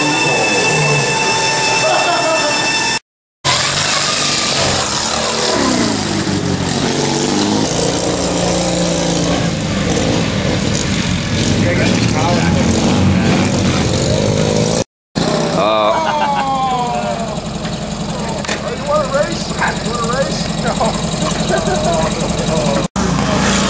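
Racing tractor engines at a tractor racing event on the 710 raceway, loud sustained revving and droning with rising and falling pitch as machines pass, with crowd noise and voices mixed in.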